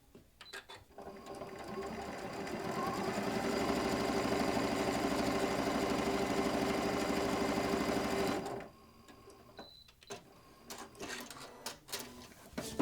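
Janome sewing machine stitching the corners of a quillow, a loud steady whirring hum that runs unbroken for about eight seconds, then stops, followed by faint ticks and handling sounds nearby.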